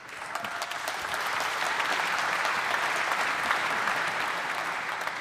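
Sustained applause from a live audience at Union Chapel, a dense steady wash of many hands clapping that swells in and holds for several seconds.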